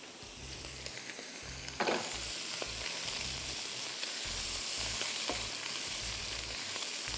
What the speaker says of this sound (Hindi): पनीर भी आपने देखा अच्छी तरह सौटे हो गया